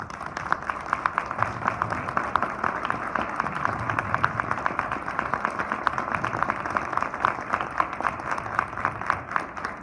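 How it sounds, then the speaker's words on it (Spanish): An audience at a talk on homeopathy and quantum physics applauds in honor of Dr. Jorge Luis, producing a steady, even wash of many hands clapping that continues unbroken for about ten seconds. "les pediría 10 segundos de aplausos para el doctor Jorge Luis"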